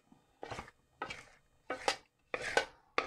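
Cauliflower florets tossed and stirred with masala in a bowl, heard as five separate scraping, clattering bursts at a steady rhythm with quiet pauses between them, close and fairly soft.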